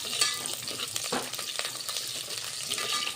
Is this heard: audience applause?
no